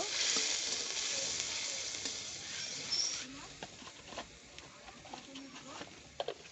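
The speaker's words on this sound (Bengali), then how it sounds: "সমস্ত মশলা আমি একসঙ্গে মিশিয়ে কষিয়ে নেব" Turmeric, red chilli powder and garam masala being stirred and sautéed together in hot oil for a village-style fish dish: a loud sizzle at first that fades to softer, scattered crackles and scraping stirs.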